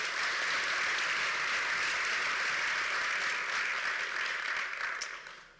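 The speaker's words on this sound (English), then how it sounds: "let's give folks a hand of applause" A volunteer awards audience applauds steadily in a dense, sustained wash of clapping that holds for several seconds before tapering off at the end.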